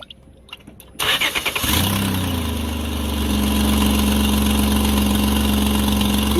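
A car engine starting after a heater core flush: a brief stuttering crank, then the motor catches and settles into a loud, steady idle close by, with a rough exhaust note from an exhaust leak at the catalytic converter.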